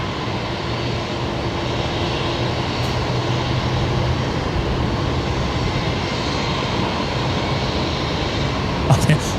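An airliner rolls out on an intersection departure from runway 19 right at Brisbane Airport at night, a steady, broad engine roar heard from a distance throughout, with faint voices now and then.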